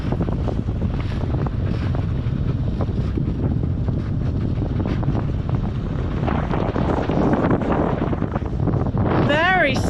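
Steady wind roars across a sailboat motoring with its mainsail down, heading into the wind through a gap toward an anchorage as fog rolls in; the rush stays loud and constant throughout, with a brief rising whine near the end.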